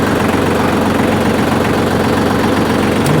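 A tractor engine running with its forks fitted, a loud steady low rumble and throb that holds without a break, with no voices.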